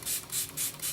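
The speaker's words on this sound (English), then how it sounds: "I'm going to damp that up a little bit more with the Smashbox primer water, and I'm going to spray that." Four quick pumps of Smashbox primer water spray onto a beauty sponge, each a short, soft, close hiss in an even rhythm, with no talking.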